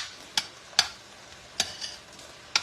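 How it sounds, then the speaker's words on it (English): A spoon stirs homemade spaghetti sauce with hamburger in a pot, giving four or five sharp scraping clicks against the pot at irregular intervals over a faint background hiss. "And you just stir it up."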